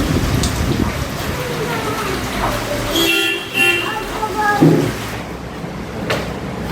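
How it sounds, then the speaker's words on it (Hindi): Heavy rain falls steadily with some wind, a dense continuous hiss close by, while voices talk over it and a brief tonal sound cuts in near the middle. "बहुत तेज़ की है बारिश, हवा भी साथ में है"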